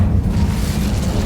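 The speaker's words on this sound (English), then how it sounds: "Incendio." Incendio fire spell cast in Hogwarts Legacy, a loud, dense burst of roaring, rumbling fire that fills the whole moment without letup.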